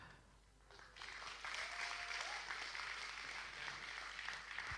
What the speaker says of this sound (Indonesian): Respon kayak gini yang saya butuhin Pak, tepuk tangan Pak.